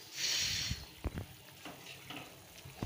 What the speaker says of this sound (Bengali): টকবক টকবক করে ফুটছে।